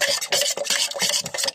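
Thick, lumpy homemade wood stain mixture being stirred, giving a steady run of close, rough scraping and rubbing strokes in a quick repeating rhythm with no voices.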